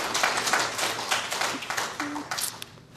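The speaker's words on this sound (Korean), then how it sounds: "여러분 귀한 마음에 우리 하나님께 영광의 박수를" A Korean church congregation claps in praise to God, with brisk, fairly loud clapping that thins out and fades toward the end.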